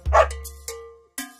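A dog barks a couple of short, bright yaps in a children's farm song, close and clear with brief gaps between barks.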